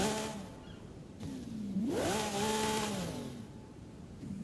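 A Lamborghini in the racing game Forza Horizon 5 starts up: a short starter whirr, then the engine catches with one sharp rising rev and drops into a steady idle. The sound is loud and close, with no voices.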